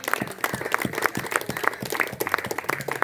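A church congregation claps together in a brisk, rhythmic burst, the individual claps blending into lively applause throughout.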